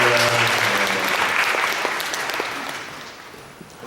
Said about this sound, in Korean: 우리의 박수로 함께하겠습니다